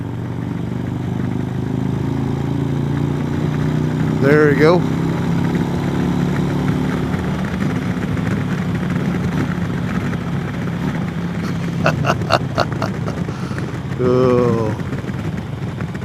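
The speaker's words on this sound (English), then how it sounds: "I love hearing these exhaust." Motorcycle idling close by, a low steady engine rumble with brief revs, from a 2022 Harley-Davidson Road Glide Limited with a 131 performance engine and aftermarket exhaust; someone speaks briefly over it.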